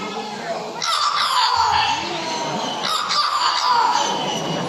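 A parrot gives loud, drawn-out crowing calls close by, imitating a rooster, in two rising bursts.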